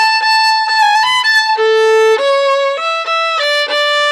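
A violin bowed with strong pressure sings a short, intense melodic line of sustained, bright notes, loud, close and solo with no voices.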